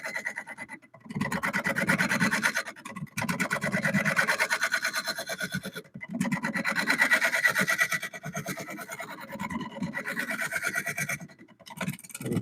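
A scraper shaves the floor of a cypress wood bowl spinning on a lathe, giving a steady, raspy grinding hiss in long passes broken by brief pauses, close and fairly loud with no talking.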